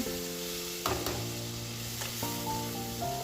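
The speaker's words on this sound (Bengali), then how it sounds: "এবার একটা গোটা টমেটোকে আমি কুচি করে নিয়ে তেলের মধ্যে দিয়ে দিলাম" Chopped tomato dropped into hot oil and sizzling in a pan, a soft steady fizz with a couple of stirring knocks over a low tonal hum, no talking.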